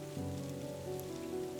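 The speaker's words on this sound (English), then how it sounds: "the sound of rain slamming against the roof, the windows, the walls" Steady rain drumming on a roof, windows and walls, a dense continuous patter with a low rumbling undertone, close and even throughout with no voices.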